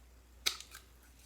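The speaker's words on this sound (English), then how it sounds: "now to punch out the baskets, I flip the punch upside down so I can see where I'm punching" A handheld paper punch snapping through a small strip of cardstock to cut out a basket shape, one sharp click followed by a faint second tick, alone in a quiet room.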